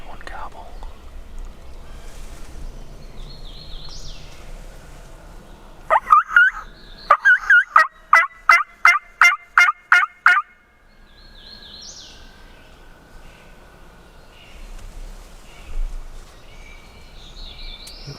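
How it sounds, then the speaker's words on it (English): A wild turkey tom gobbling in New York spring woods, one rapid rattling burst of repeated gobble notes mid-clip, fairly clear though distant, with quiet whispering voices before and after. "Well, we just had one gobble."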